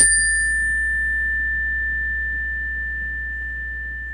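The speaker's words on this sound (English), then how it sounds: "Wait, I'll give you a bell here." A single small bell struck once near the mic, its clear ring sustaining and slowly fading for several seconds alone over a low hum.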